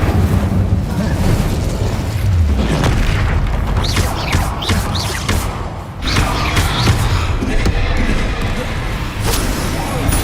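Fiery spell blasts in the Hogwarts Legacy video game, a dense run of loud booming bursts and crackling impacts packed back to back over a steady rumble of combat effects, with no pause between hits.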